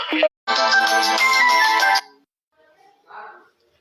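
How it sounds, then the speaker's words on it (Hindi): A phone ringtone plays loudly and close during a live religious talk stream, a sustained melodic tone that cuts off, followed by faint trailing sounds. "दासी को फोन आ रही थी तो दासी का फोन का नेट डिस्कनेक्ट हो जाता है"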